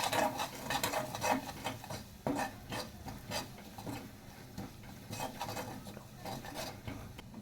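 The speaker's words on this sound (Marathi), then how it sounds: "त्याला छान मिक्स करून घ्यायचं आहे।" A spoon stirs and scrapes spiced idli ingredients around a pan, producing soft, irregular clinks and rubbing scrapes at close range, fairly quiet, with no talking.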